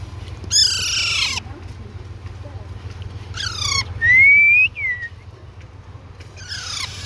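Alexandrine parakeet chicks giving loud, harsh calls in three bursts, with one rising whistled note between them, over a low steady background hum.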